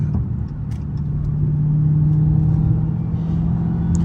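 Dodge Hellcat cruising along a road heard from inside the cabin, a loud, steady low engine drone and rumble with a constant tone and no speech.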